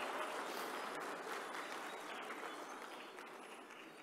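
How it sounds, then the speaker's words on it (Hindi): A conference audience at the Hindustan Shikhar Samagam summit welcomes union minister Rajnath Singh with soft, distant applause that holds steady, then slowly fades. "तालियों के साथ हम स्वागत करेंगे हमारे अगले स्पीकर का"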